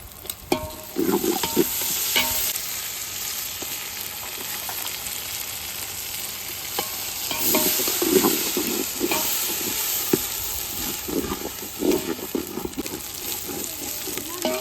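Onions sauté in a pan with mint and coriander leaves for chicken biryani, a steady close sizzle with repeated stirring scrapes and clinks running throughout.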